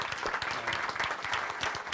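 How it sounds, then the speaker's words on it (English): A conference audience at a manufacturing summit applauds a speaker, a steady, dense wash of clapping heard from within the room for its whole short length. "round of applause for Bart"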